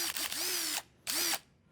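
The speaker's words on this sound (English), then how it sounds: "Sorry, here's your drill." A handheld power drill whirs in two loud bursts, the first longer with a brief stutter and rising pitch, then a pause before a second shorter run, close up.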